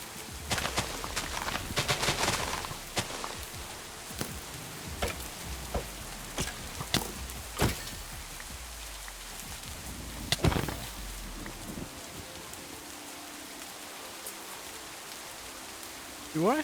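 Rain falls in Minecraft, a steady patter with sharp ticks and knocks scattered through it that fade toward the end, heard alone at moderate level.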